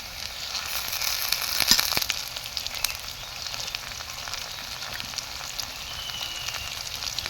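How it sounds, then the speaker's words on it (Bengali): Sliced onions frying in hot oil until browned, a continuous close crackling sizzle with scattered sharp pops and spits, steady in loudness throughout with no voices. "পেঁয়াজটা ভালো করে লাল লাল করে ভেজে নিচ্ছে"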